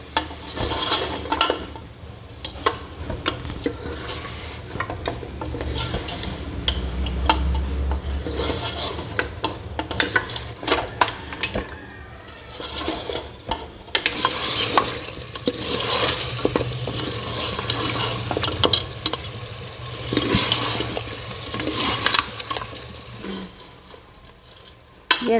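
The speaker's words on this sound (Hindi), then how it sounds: "ये भी मैं इसमें शामिल कर दूंगी और इनकी इसके साथ भुनाई करूँगी" Beef nalli bones browning in oil for nihari, a steady sizzle with constant stirring and scraping of a spoon against the pot, close and moderately loud, no talk.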